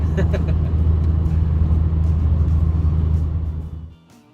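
An FRS car drives a winter mountain road in Kananaskis, Canada, its steady low cabin rumble and road noise filling the interior before dropping away sharply near the end.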